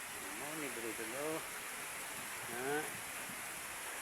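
Steady rain hisses across a rural hillside homestead, a broad unbroken wash of noise beneath a voice that speaks in two short bursts.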